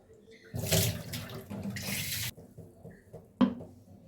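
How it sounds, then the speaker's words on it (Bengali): Potatoes washed under a running kitchen tap, with two bursts of gushing water splashing into a sink, then a brief pause and a short final splash, heard up close. "তো আলুগুলোকে প্রথমে একটু ধুয়ে নিলাম ভালো করে"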